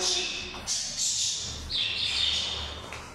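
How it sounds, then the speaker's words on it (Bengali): Small birds chirp and tweet in short bright bursts outdoors, several calls overlapping at moderate distance, with a faint voice in the background. "আসো, পাখি ডাকতেছে, দেখছো কত সুন্দর করে।"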